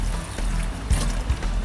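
Water poured from a watering can onto freshly planted flowers in a combination planter, a brief steady splashing trickle into soil, close and alone.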